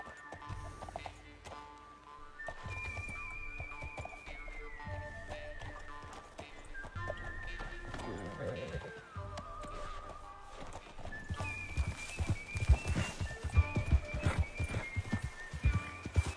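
Rapid rhythmic hoofbeats of galloping horses with occasional whinnies, over a steady game music background, growing louder toward the end.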